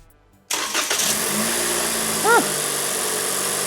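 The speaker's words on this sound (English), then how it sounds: "Let's get this thing fired up." A Toyota Corolla E210 engine with an Injen cold air intake cranks briefly, then catches and settles into a steady idle with a short rev, close and loud, with a brief voice over it.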